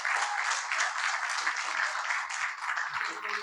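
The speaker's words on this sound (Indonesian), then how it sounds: "Boleh tepuk tangan sekali lagi kawan-kawan semua." An audience at a national consolidation session claps in sustained, dense applause that holds steady throughout, with a faint voice briefly audible near the end.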